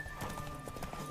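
Horse hooves clip-clop in a steady, brisk rhythm from a horse in the video game The Witcher 3, with a faint tonal hum underneath and no voices over it.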